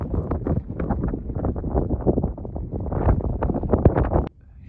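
Strong wind buffets the microphone outdoors on open ground near an anticline, a loud continuous rumbling gusty roar that stops abruptly near the end.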